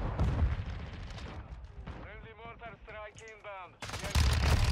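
Gunfire in Call of Duty Modern Warfare 2 Season 3 online play: loud, dense bursts of shots open and close the moment, with a short, rising in-game voice or effect in between.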